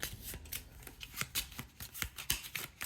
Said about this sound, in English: I'll need to shuffle the Natama deck